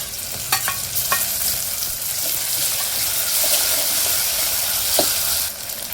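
Green chili, garlic and coriander hit hot oil for green moong dal and sizzle loudly in a steady crackling hiss, with a few sharp clinks of a spoon early and once more near the end.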